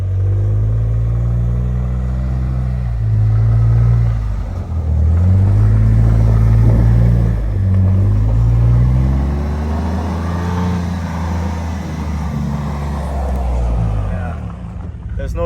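Ford F150 Raptor powersliding through snow, its engine droning and rising and falling in revs for the whole stretch, loud and close from inside the cab, with someone talking over it.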